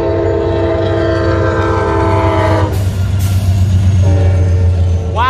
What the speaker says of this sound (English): Southbound auto train.